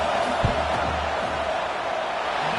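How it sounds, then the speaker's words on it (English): Stadium crowd at a football game roars steadily as a field goal unit lines up for a kick, a dense, continuous wash of massed voices and noise with a brief thump near the start. "This crowd trying to do its part to get inside the kicker's head."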